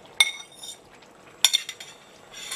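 Potatoes stirred in a pan with a utensil, giving sharp metallic clinks and scrapes in two brief bursts with quiet gaps between, close by and with no talking.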